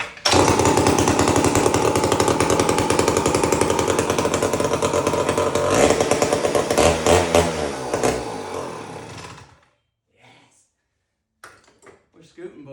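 A heavy old chainsaw engine is pulled over and throttled, running loud and rough for about nine seconds before cutting out, followed by a few faint sputters and knocks.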